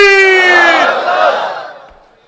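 A large crowd at a religious sermon roars the takbir response in unison: one loud, near, sustained chorus of voices that swells and then slowly fades out.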